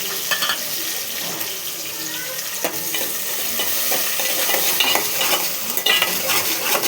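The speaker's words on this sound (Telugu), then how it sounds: "తర్వాత అవి వేగినాక ఉల్లిపాయ, పచ్చిమిర్చి, కరివేపాకు వేసుకోవాలి" Onion, green chilli and curry leaves fry in a pan with a steady, close sizzle, joined by scraping stirs and a few sharper crackles and clatters, with no voices.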